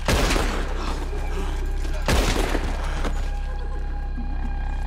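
Heavy gunfire in Red Dead Redemption 2, two loud booming volleys about two seconds apart, each fading into a lingering rumble over a steady game soundtrack.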